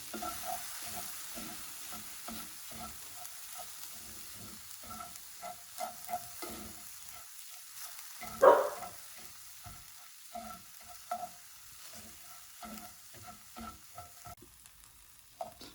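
Long-grain white rice stirred in oil in a pan, soft rhythmic scraping and gentle sizzling repeated in quick strokes, with one louder clatter midway.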